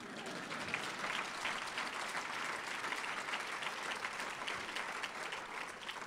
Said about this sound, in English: It's okay to applaud for that, too.